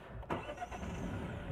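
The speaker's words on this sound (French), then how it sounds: "L'écran tactile, on va démarrer la voiture." A Citroën C4 Cactus engine starts up, a short crank that settles into an even, close idle.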